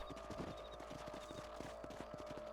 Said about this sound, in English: Ah, está mi caballo. Al lado.